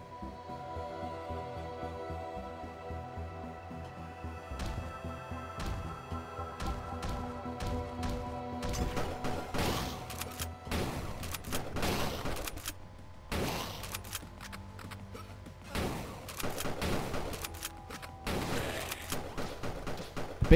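Bursts of rapid automatic assault rifle gunfire in a video game crackle over a quiet humming background, coming in several clusters that grow denser toward the end.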